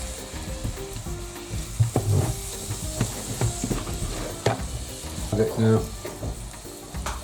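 Onions and mushrooms sizzle steadily as they fry down in a pan for foo yung, with the loud, close crackle broken by occasional stirring scrapes and a brief spoken word.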